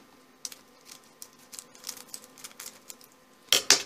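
Small scissors snip and rustle through the foil wrapper of a Yu-Gi-Oh Galactic Tachyon booster pack, a string of faint, crisp clicks and crinkles that ends in a louder tearing burst.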